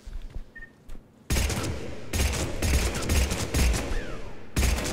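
A Punisher gun in Mass Effect 3 rattles off close, loud full-auto bursts. After a few quieter clicks, several long rapid volleys are broken by brief gaps, with no voices.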